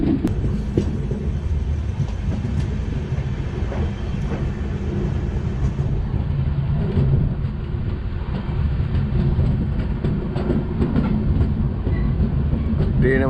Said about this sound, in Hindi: ट्रेन हमारी पहुंच चुकी है मैंगलुरु जंक्शन।